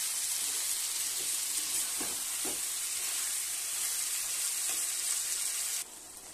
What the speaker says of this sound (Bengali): মাংসটা আমি এভাবে বারবার কষাবো আর চাপা দিয়ে দিয়ে কষাবো এটাকে আমি